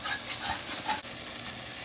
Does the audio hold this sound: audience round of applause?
no